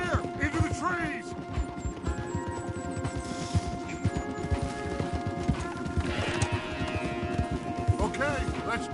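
Horses ride at a quick, rhythmic clip in the Red Dead Redemption 2 video game, with steady, close hoofbeats pounding throughout and a voice speaking briefly over the galloping.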